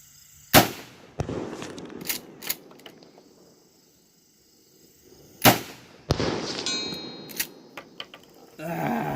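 A 12 gauge shotgun fires Winchester 3.5 inch 00 buckshot outdoors, with two loud, sharp blasts several seconds apart, each followed by clicks and the clatter of the action being worked nearby.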